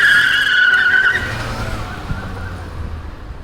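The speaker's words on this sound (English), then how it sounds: "if you want the wheels to spin faster at higher RPMs when you are taking off your car from a standstill position, that's called screeching" Car tyres spinning and screeching from a standstill with traction control switched off, a loud high squeal at the start that fades over a couple of seconds as the engine note carries on, no voices.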